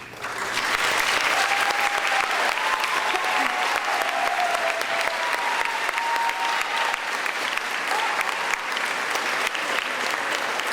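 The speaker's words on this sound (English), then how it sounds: "please stand for applause." Steady, full applause from a school graduation crowd as the 8th grade band members stand, loud and continuous for the whole stretch with a few faint whistles mixed in.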